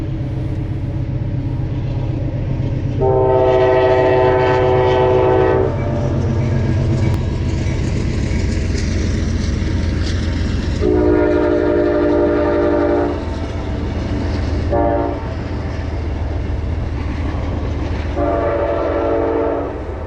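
A train rolls over a lakeside railroad crossing, loud and close, as a steady rumble that runs throughout. Long horn blasts sound repeatedly over it.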